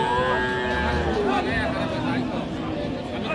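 A cow moos at a busy village cattle market among Sahiwal cows, calves and bulls, a long drawn-out low call close by, with someone talking over it and crowd chatter behind.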